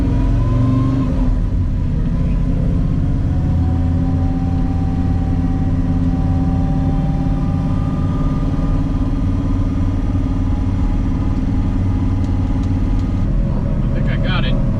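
A 1970 Chevrolet Chevelle with an LSA engine and a touchy manual clutch drives along, its loud, continuous low engine drone and road rumble filling the whole stretch up close.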